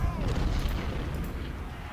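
Union artillery firing in the Civil War strategy game Ultimate General: Civil War, heavy rumbling booms and cannon reports rolling continuously, loud and low, with a faint voice mixed under the battle din.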